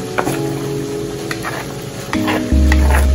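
A spatula stirs a stew of garden eggs (eggplant), spinach and egusi in a sizzling pot, with scraping clicks over a steady frying hiss and a low hum.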